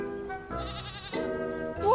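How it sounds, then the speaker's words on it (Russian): A goat bleats in short wavering calls, close and fairly quiet, amid a comedic domestic scene. "Два дня коза в городе была, уже копыта накрашены."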